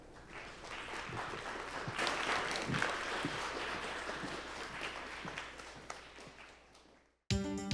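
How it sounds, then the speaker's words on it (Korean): A lecture audience at a science talk on light and color claps warmly to welcome the professor, a steady broad wash of applause that swells, holds and tapers away before cutting off abruptly. "교수님을 큰 박수로 맞이해 주시죠."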